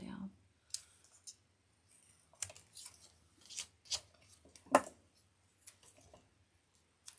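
Scissors snipping through foam squares, a run of quiet, sharp, close clicks and cuts coming in irregular bursts against an otherwise quiet background.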